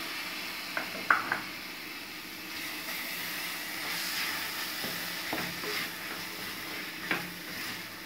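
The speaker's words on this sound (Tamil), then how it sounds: "சேர்த்து நம்ம இந்த மசாலாவில் நல்லா ஃப்ரை பண்ணிக்கலாம்" Tomatoes fry in oil and masala in a pan, giving a steady soft sizzle with a few sharp clicks and stirring scrapes, close and moderately quiet.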